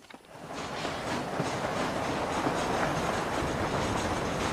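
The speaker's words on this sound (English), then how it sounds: "Hurry! The train is getting away!" A train runs in the Red Dead Redemption video game: a steady, loud, close rumble of rolling railcars with a rhythmic clickety-clack of wheels that continues throughout.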